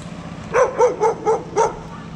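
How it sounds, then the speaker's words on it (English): Dogs give five quick, evenly spaced barks close by over a low steady background rumble, with no one talking. "All right, everybody, stop barking."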